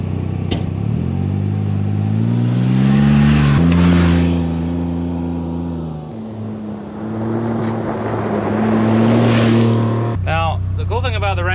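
A Polaris Ranger 1500 XD utility vehicle pulls away outdoors, its engine droning and rising in pitch through gear changes, loud and close, with a brief clatter at the end.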